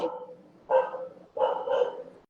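Dogs bark in a few bursts, harmonic and moderately loud, with short pauses between groups of barks.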